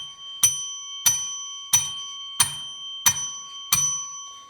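A bell rings out as a salute for a women's football team's ten goals, struck in an evenly spaced series of six bright, ringing strikes about once every two-thirds of a second, each decaying before the next.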